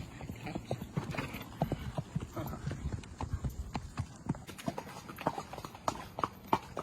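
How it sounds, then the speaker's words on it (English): Horse hooves clip-clop quickly and steadily as a horse runs off, drumming on the ground throughout, with faint voices in the background. "That horse took off. Real quick."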